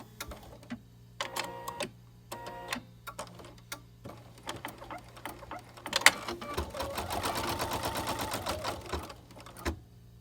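An embroidery machine stitches the lining of an in-the-hoop zipper bag, with short bursts of rapid mechanical needle clatter that build into a longer, denser run of fast stitching, heard close and alone.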